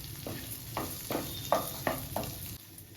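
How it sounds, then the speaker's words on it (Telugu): Two chopped onions fry in oil in a pan with a steady close sizzle, broken by several short stirring scrapes and bursts of crackle. "నూనెలో వేయిస్తున్నాను."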